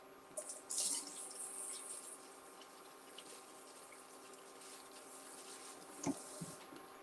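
Tap water runs steadily to rinse down the inside walls of a blender jar while soup is being made in a home kitchen, a continuous faint wash with a brief louder splash near the end.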